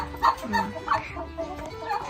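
Free-range native Thai chickens mixed with turkeys and ducks on a small village farm, with clucks and short calls scattered across the clip, several at once, close by, with no talking.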